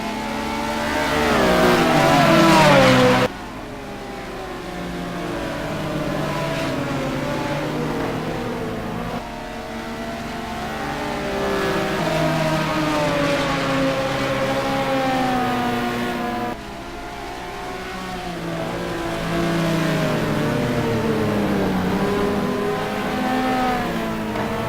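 Simulated GT race cars, including a Ferrari and a Porsche, lapping Spa in an endurance round of a racing video game: loud, whining engines climbing and dropping through gear changes, with cars close by throughout.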